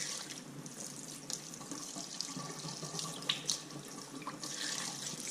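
Water running and splashing steadily as a home fish tank is partly drained for its weekly cleaning, a continuous close trickle with a few brief drips and sloshes, no voices.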